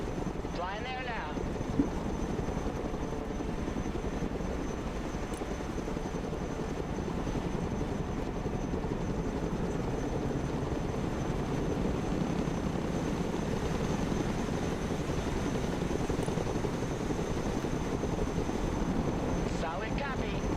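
Chinook helicopter flying in the video game Broken Arrow, a steady loud rotor and engine drone that holds level for the whole stretch, with a voice speaking over it at moments.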